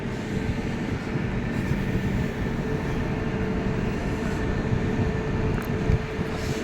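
A train waits at a station in Uttar Pradesh, about to depart, with a steady low rumble and hum of the stationary rail carriages filling the scene at moderate level, with no talk.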